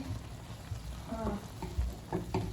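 Maggi noodles being stirred in a hot pan in a home kitchen, soft scraping and sizzling with a few spoon knocks against steady background hiss, close up with no talking.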